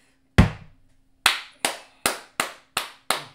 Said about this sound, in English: This is the first time I clapped for a ball